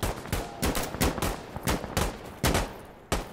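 Gunfire in the video game Insurgency Sandstorm, a series of about eight sharp, loud shots fired in an uneven rhythm, each cracking out with a short decaying tail, with no talk over it.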